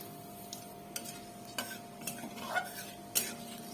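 A utensil stirring whole bay leaves and cumin seeds in hot oil in a pan, with several sharp metallic scrapes and taps over a faint sizzle.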